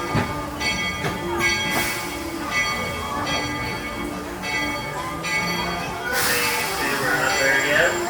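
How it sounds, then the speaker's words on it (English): The Walt Disney World Railroad train at Magic Kingdom rumbles and clatters slowly along the rails into a station with squealing wheels and a ringing bell, while a voice carries faintly over the steady noise. "please remain seated until the train comes to a full and complete stop"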